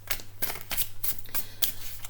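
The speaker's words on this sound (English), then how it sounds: "So just do a couple of more shuffles here, and then I'll just go ahead and cut the deck." Tarot deck being shuffled by hand, a close series of crisp riffling bursts and soft slaps repeating in an uneven rhythm over a low steady hum.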